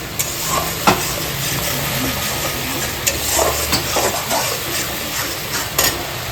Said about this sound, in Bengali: কই মাছ ইলিশ মাছ এই সমস্ত ভাজা হচ্ছে